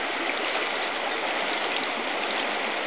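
The Brda river flows near Bydgoszcz with a constant, even rush of moving water, a close and steady hiss of stream noise with no voices or breaks.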